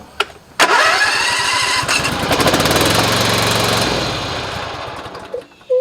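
A Husqvarna zero-turn hydro drive mower with a worn emergency brake cranks and catches, then runs as a loud, steady small engine with a fast pulsing beat for several seconds before it cuts off with a few clunks.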